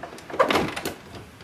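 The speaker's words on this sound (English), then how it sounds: "And open the ink cartridge chamber door." The ink cartridge access door of an HP printer is pulled open with a short plastic clatter and scrape, followed by a fading rattle. It is close and fairly loud.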